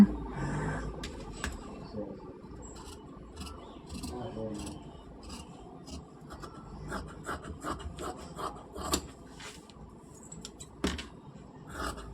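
Scissors cut through blouse fabric on a work surface, making repeated close snips and rasping fabric scrapes in an uneven rhythm throughout.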